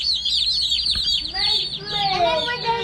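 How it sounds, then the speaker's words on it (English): Meat chicken chicks in a brooder peep loudly and continuously, a dense chorus of high chirps from many birds close by. "That is our meat chickens in a real quick, hurried morning."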